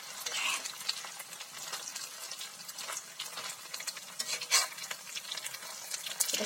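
Noodle pakora fries in hot oil with a continuous close sizzle and small crackles, plus occasional stirring clicks, and no voices.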